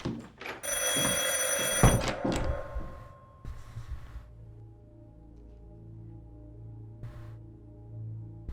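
A telephone ringing in the video game I Saw Black Clouds, a loud bell-like ring lasting over a second with knocking and thuds around it, followed by quieter low ambience and a faint later ring.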